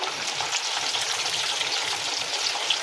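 Potatoes sizzle in hot oil in a home kitchen, a dense continuous crackling hiss that holds steady at close range, with no voices.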